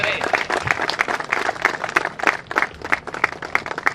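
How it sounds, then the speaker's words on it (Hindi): Dense, lively crowd applause fills the hall at the opening ceremony of MCL's first biocoal factory in Mohan Badodiya, Madhya Pradesh, sustained and close with bursts of stronger clapping throughout. "सभी जोरदार तालियां बजाएंगे"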